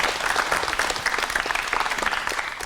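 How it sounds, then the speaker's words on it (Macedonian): Audience applause for an awards presentation, dense steady clapping from a crowd lasting the whole stretch at even strength, with no talk over it. "да чујам силен аплауз за овие награди"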